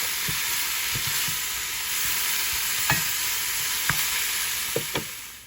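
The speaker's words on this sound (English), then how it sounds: "Add back in your shrimp and your sausage. And come in and give it a mix." Cajun shrimp, sausage and vegetables are stirred in a skillet over a constant hissing sizzle, with several light spoon scrapes and taps scattered through; no speech.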